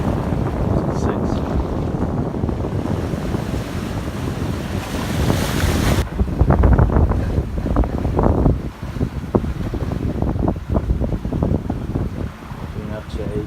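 Sailboat running downwind on an open-sea passage between Martinique and Bonaire at around eight knots, with steady broadband wind rush and buffeting across the microphone, surging waves and hull wash, loud and continuous, with brief talk in the middle.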